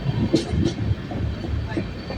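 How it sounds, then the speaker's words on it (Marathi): A train passes along a railway track with a steady, close, broadband rumble and some louder bursts that hold through the whole stretch. "अजून थोडे आणि ट्रेन पटरं येते बघा."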